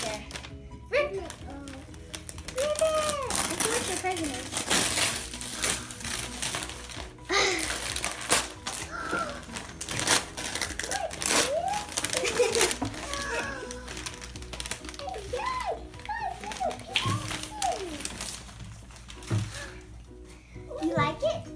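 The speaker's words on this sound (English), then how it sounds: "Go ahead, start unwrapping." Blind bag packaging being ripped and unwrapped by hand, with crinkling and tearing bursts scattered throughout while a child and an adult talk and exclaim over it.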